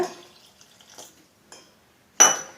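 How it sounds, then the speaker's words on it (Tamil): Water is poured into a bowl of rava dosa batter mix made with curd: a few faint, soft trickles, then one short, louder splash near the end. "இப்போ இது கூட கொஞ்சம் தண்ணி சேர்த்துக்கோங்க."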